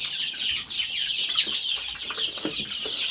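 Many Fayoumi chickens in a rooftop shed cluck and chatter together in a busy, continuous din, with occasional louder calls and wing flutters standing out, fairly close.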